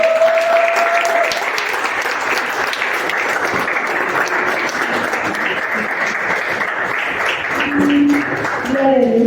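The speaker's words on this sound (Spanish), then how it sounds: "Den un fuerte aplauso" A congregation claps loudly and steadily at a church service led by a pastor, a dense wash of applause lasting throughout, with a brief voice heard near the end.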